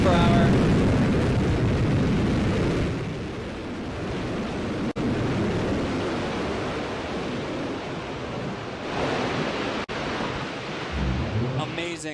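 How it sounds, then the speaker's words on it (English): Blue Origin New Shepard rocket booster engine roaring during its landing burn, a steady broad rushing roar that fades slightly midway and swells again, heard alone and loud. "another picture-perfect landing for New Shepard rocket booster"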